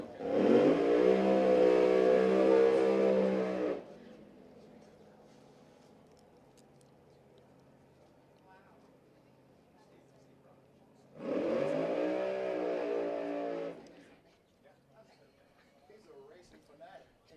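A clutch drag racing car and a converter drive car rev their engines at a Division 4 drag strip, making two loud, sustained roaring bursts separated by a quieter idle stretch, with announcer talk between them.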